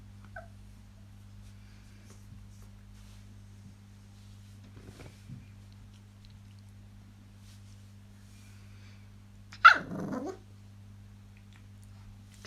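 A puppy in the background lets out one brief, yelping cry that sounds close to a cat-like squeal, following a long stretch of near silence with a faint steady electrical hum underneath and no talking.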